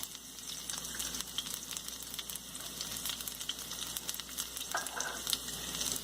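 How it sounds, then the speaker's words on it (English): Garlic fries in heated oil in a pan, a steady close sizzle with crackling pops and occasional stirring scrapes, continuous and without speech. "Now oil is heated, and now I'm going to add garlics."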